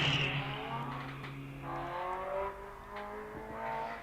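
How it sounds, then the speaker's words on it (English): Ginetta G4 race car on the Wiscombe Park hillclimb start line, its engine revving hard in uneven surges as the wheels spin, heard from a moderate distance. "A bit of trouble getting the traction down by the sound of it."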